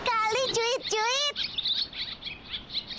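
Newly hatched baby birds in a cartoon give two bright, high chirping calls close up, followed by softer twittering chirps over a quiet background.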